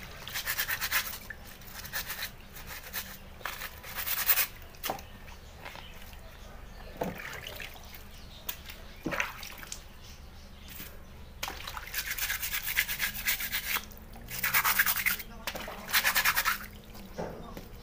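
Scrubbing and washing of a motorcycle helmet by hand, a steady wet brushing in bursts with short pauses and occasional drips and knocks, close and moderately loud with no talking.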